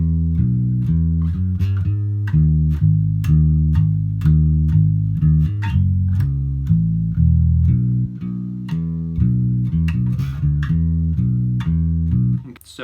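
A country bass line on bass guitar, deep sustained notes stepping through a repeating walking pattern, loud and up close with light string attack clicks and no talking.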